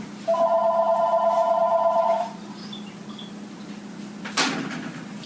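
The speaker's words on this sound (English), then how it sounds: "the phone won't stop fucking ringing" A telephone rings in a kitchen, one long electronic warble lasting about two seconds, followed by quieter room noise and a brief knock or clatter near the end.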